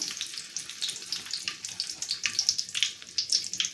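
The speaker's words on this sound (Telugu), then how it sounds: "గట్టిగా పిండితే దీనిలో ఉన్న వాటర్ అంతా కూడా బయటకు వచ్చేస్తుంది." Soaked soya chunks (meal maker) squeezed hard by hand release water in repeated splashing, dripping bursts, close and fairly loud, with no talking.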